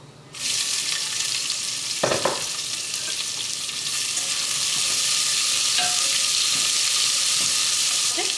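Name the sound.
chopped onions added to hot oil, frying for biryani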